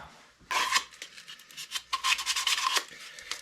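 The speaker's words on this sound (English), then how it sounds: "We're going to want to clean these edges up with like a file or just a piece of sandpaper" The cut edges of a PVC pipe are smoothed with a file or sandpaper, short rasping strokes in irregular bursts, close up, after a quiet opening moment.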